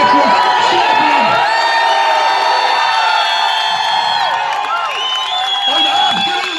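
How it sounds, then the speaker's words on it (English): A large crowd of protesters at a rally in Cork City roars with sustained cheering, whoops and shouts, loud and continuous throughout with scattered voices rising above the din. "Cork City has never ever in its history seen a crowd of patriots so big."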